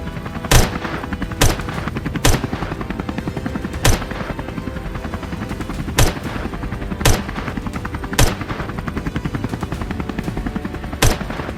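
Rifle shots fired from a helicopter at wild boars in an open field: about nine sharp, evenly spaced cracks ring out over a steady, loud rotor and engine drone.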